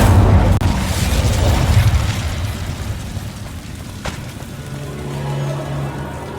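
Incendio fire spell bursting in Hogwarts Legacy: a loud low boom and fiery roar swell up front, crackle and fade over several seconds, with a sharp snap midway and a faint hum trailing at the end.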